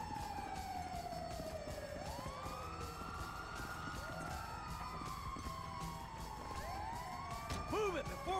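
A wailing ambulance siren in Grand Theft Auto V sweeps up and down continuously over background rumble, fairly distant and steady, with no voices.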